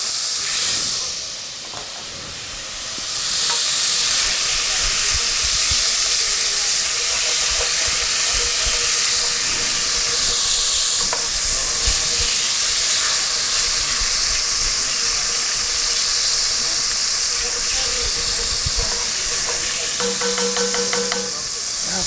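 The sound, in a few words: steam hissing while deglazing a pan with water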